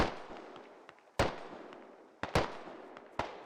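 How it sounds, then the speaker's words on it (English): AK rifle shots in the military shooter game Squad, several sharp single cracks spaced irregularly with decaying echoes between them, moderately distant and with no talk. "They're going to hear this AK fire"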